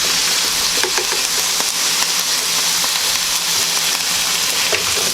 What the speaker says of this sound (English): And we're going to put the shrimp scampi in.